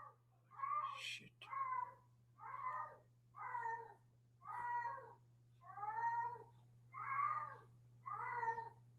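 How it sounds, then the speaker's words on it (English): A cat screams and caterwauls in eight long, evenly spaced wails, loud and close, with a steady low hum running underneath. "cats scream like young children getting tortured"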